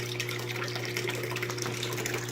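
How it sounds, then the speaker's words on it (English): Water runs steadily into a Coralife BioCube aquarium as the flow is started, a continuous close gushing and trickling with a steady low pump hum underneath, no talk. "I think I should probably start water flow, just so that I know how much I need to fill this up"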